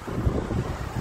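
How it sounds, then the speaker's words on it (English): Outdoor wind buffets a microphone in a steady low rumble, loud and close, with no voices. "It's windy, windy."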